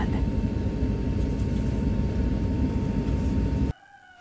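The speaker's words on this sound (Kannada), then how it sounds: "ಫ್ಲೈಟ್ ಹಾಗೆ ನಿಧಾನವಾಗಿ ಟೇಕ್ ಆಫ್ ಆಗೋದಕ್ಕೆ ಸ್ಟಾರ್ಟ್ ಆಯಿತು." An IndiGo airliner starting its takeoff roll on a Bangalore to Mumbai flight, heard from inside the cabin as a loud, steady engine roar that cuts off abruptly near the end.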